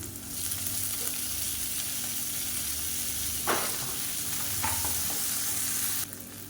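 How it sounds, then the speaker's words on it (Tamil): Chana dal, urad dal, chopped onion and green chilli frying in a pan for millet kozhukattai, a steady close crackling sizzle with a couple of brief scrapes of the spoon, then cutting off near the end. "இப்போ கடலைப்பருப்பு உளுந்து எல்லாமே கொஞ்சம் லைட்டாக பொரிய ஆரம்பிச்சிது"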